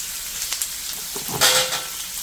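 Shallots fry in hot oil in a kadhai for spicy Indian kadhai chicken curry, a dense continuous sizzle with a louder hiss burst as they are stirred, close-up and without voices.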